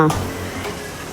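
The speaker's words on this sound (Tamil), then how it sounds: "இப்போ காலிஃப்ளவர் சில்லி நல்லா ஃப்ரை ஆகி வந்துருச்சு பாருங்க போடும்போதே உங்களுக்கு அந்த சவுண்டு டிஃப்ரெண்ட்டாக தெரியும்" Cauliflower 65 pieces fry crisply in hot oil, a brief burst of close, crackling sizzle following a short voice at the start.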